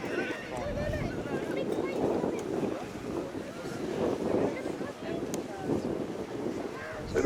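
A Boeing B-52H Stratofortress bomber flies at the RIAT 2023 airshow, giving a continuous broad, rumbling roar from some distance that swells and eases slightly over several seconds, with wind buffeting the microphone.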